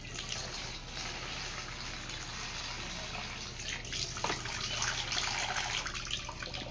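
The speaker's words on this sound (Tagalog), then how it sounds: "Lagyan natin ng konting malamig na tubig kasi masyadong mainit." Cold water pours steadily into a cooking pot in a home kitchen, a continuous close splashing stream that swells slightly toward the end, with no voices over it.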